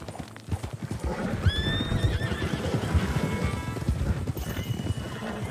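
A horse whinnies in Red Dead Redemption 2, one high shrill neigh rising over a dense rumble of hooves clip-clopping at pace, with the galloping continuing steadily after the call fades.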